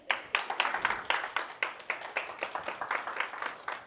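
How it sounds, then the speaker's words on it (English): A small audience at a real estate seminar claps for Vince, with a few hands beating out an even, rhythmic clap that carries on steadily throughout. "y'all clap it up for Vince"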